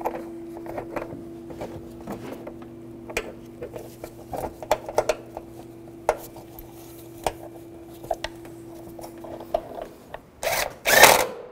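Power tool tightening air box bolts on a 2010–2017 Chevrolet Equinox, with quiet metallic clinks over a steady hum, then a short, loud whirring burst near the end.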